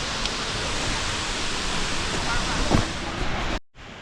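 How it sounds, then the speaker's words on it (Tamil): Krang Suri waterfall in Meghalaya, a constant dense roar of falling water heard close and loud throughout, cutting out briefly near the end. "இந்த ஃபால்ஸ் வந்துங்க கிராங்சூரி நீர்வீழ்ச்சின்னு பேர்."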